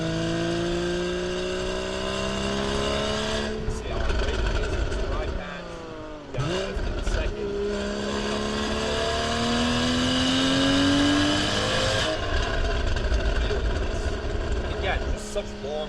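A 2015 Porsche Boxster 981 with its flat-six engine pulls hard through long gears on a wet road, the engine note rising steadily, dropping at a shift, then climbing again, heard from inside the car with a continuous drone.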